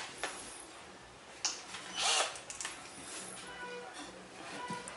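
A power drill drives the first screw into a drawer slide, giving short whirring bursts with one louder surge in the middle and softer tool clicks, heard close up while a person speaks.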